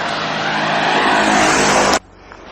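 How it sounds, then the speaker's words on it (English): Road traffic roars past loudly and close by as a sustained broadband whoosh, then cuts off abruptly, leaving quiet ambient background. "As the sound of the traffic dies down behind us"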